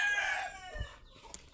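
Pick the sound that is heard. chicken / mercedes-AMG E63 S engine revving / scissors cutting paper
chicken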